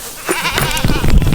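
Farm goats bleat in several overlapping calls, fairly close and loud, with livestock shuffling and noise underneath across the short stretch.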